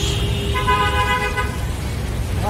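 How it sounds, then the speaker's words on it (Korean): A car horn sounds on a busy street in Ho Chi Minh City, a clear sustained honk of about a second over steady traffic rumble, fairly near. "좀 그만 좀 빵빵 내려라 이제."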